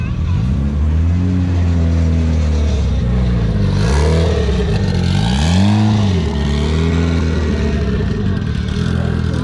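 Race cars pull away in a roll racing elimination, engines roaring loud and close through rising and falling revs, with a continuous heavy drone of track noise throughout.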